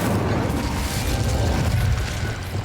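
Incendio, the fire spell in Hogwarts Legacy, roars as a dense, continuous fiery rumble with crackling texture, loud and close, holding steady for a couple of seconds without any voice.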